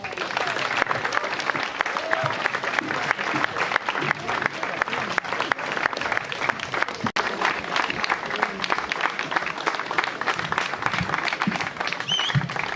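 Sustained crowd applause at an outdoor grape harvest celebration in Svetinje as the new wine queen comes onto the stage, a dense steady clapping that fills the whole stretch with scattered voices in the crowd.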